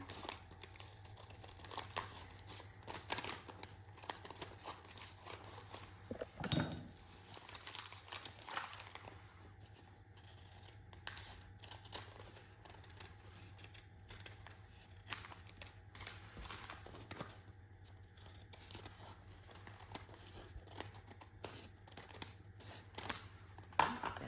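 Paper cut with scissors while making a junk journal cover: faint, close snips and paper rustles repeat irregularly over a low steady hum, with one louder clunk partway through.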